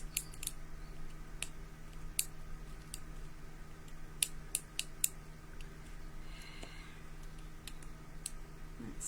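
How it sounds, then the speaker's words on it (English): Metal scissors snipping and cutting while a photo frame is upcycled with coffee and chocolate themed papers, a run of sharp, close clicks and snips at irregular intervals over steady low background noise. "Am I abusing my scissors?"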